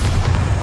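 Bombarda blasting spell from Hogwarts Legacy, a single deep, rumbling boom that holds loud and close for under a second, with no voices over it.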